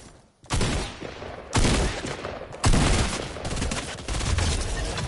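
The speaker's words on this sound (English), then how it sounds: "I'm gonna use this gun because I do not want to waste ammo" Gunfire from a gun in the video game Fortnite: loud, sustained bursts of rapid shots in several waves with only brief gaps between them, dense and close, with no talking.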